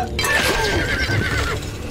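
A horse in the strategy video game Stronghold Crusader gives a loud, close, quavering neigh that lasts nearly two seconds, with no talk over it.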